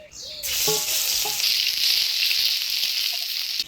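Crushed garlic hits hot oil for tempering with a sudden loud hiss that settles into a sustained, close, even sizzle lasting several seconds before easing off.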